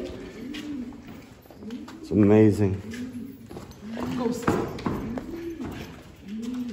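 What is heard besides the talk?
pigeon cooing at Edfu temple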